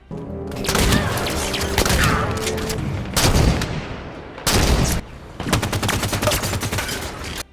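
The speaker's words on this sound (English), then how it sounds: "the weapons sound really good, and the human weapons in particular have a nice sound to them" Dense gunfire from human weapons in Halo 5: Guardians in sustained bursts, loud and close, with rapid automatic shots and heavy booming impacts, broken by a few brief pauses.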